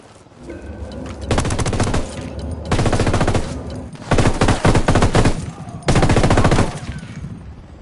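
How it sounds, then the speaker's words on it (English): Automatic gunfire crackles in a video game firefight set in Bolivia, coming in four dense bursts of a second or so each, loud and close, separated by short quieter gaps. "¡Nos están tirando!"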